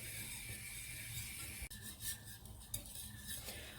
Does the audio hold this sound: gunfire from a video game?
no